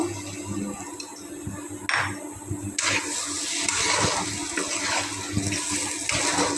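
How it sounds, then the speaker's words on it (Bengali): Water poured into a pan to rinse out a bowl during cooking of a garlic chicken gravy, a muffled trickle that becomes a fuller, steady splashing pour after a brief clatter. "আরেকটু পানি দিয়ে দিলাম বাটিটা ধোয়ার জন্য।"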